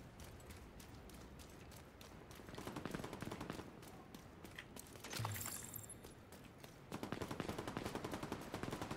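Video game gunfire crackles as suppressing fire, with quiet bursts of rapid shots, then a louder volley near the middle and another dense run of fire at the end.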